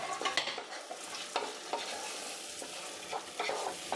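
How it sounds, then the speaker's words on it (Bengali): Red lentils stirred and fried with spices in a pan for Bengali-style dal: close, repeated scraping stir strokes over a soft, steady sizzle, with no talking. "মসুর ডালটা আমি এই মশলার সাথে একটু ভাজা ভাজা করব।"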